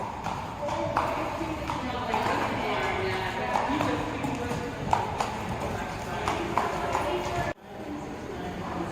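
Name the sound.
horse hooves clip-clopping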